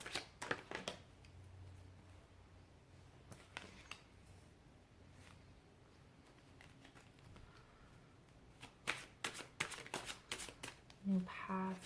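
A deck of tarot cards being shuffled before one more is drawn, with quick riffling flutters and soft slaps in bursts at the start and again near the end, quiet and close.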